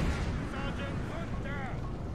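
Cannon artillery booming in a Napoleon: Total War battle, a dense, rumbling barrage of distant blasts rolling continuously, with voices faintly audible in the mix.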